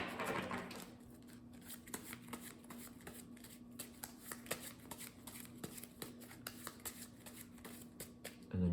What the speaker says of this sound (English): Next, let's shuffle up the player deck here.